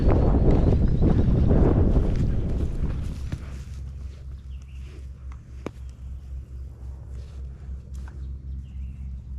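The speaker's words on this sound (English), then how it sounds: "It is windy though." Gusty wind buffets the microphone with a heavy low rumble for the first few seconds, then eases to a quieter steady hum, outdoors in Tennessee.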